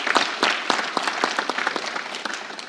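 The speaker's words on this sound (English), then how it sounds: "Can we clap for him?" Audience applause at a live election-themed church and state event, a modest crowd clapping with distinct individual claps for a couple of seconds, fading slightly toward the end.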